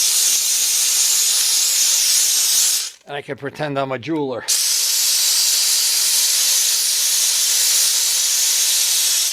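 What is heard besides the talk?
steam cleaner hissing, from Harbor Freight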